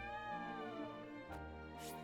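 A cat meows in the video game Triangle Strategy, a drawn-out tonal call followed by a shorter second meow, clear and alone over quiet game ambience.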